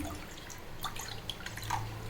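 Water poured into a kadai on a stove while cooking dough for modak kozhukattai, a faint, continuous trickle with a few soft drips in a quiet kitchen.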